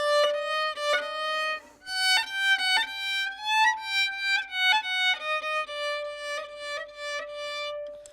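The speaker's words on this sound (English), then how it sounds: "The krechts is the sob in the music" Solo klezmer violin plays a bright, sustained melody decorated with sobbing krechts ornaments and small slides between notes, each phrase clear and close with no voices.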